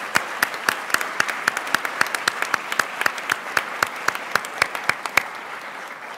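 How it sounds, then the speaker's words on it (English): An audience applauds at a New Jersey governor's bill-signing event for paid sick leave: sharp, evenly spaced claps in a steady rhythm, loud and close, with no voices. "if everybody could give Ray Woods a round of applause"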